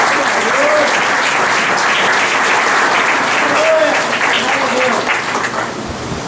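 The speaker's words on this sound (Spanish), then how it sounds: "Den un aplauso al Señor, porque el Señor se lo merece." A church congregation applauds together, dense sustained clapping close and loud, with a preacher's voice and cheers rising over it before the applause tapers near the end.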